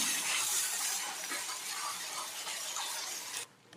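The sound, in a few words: puree frying in oil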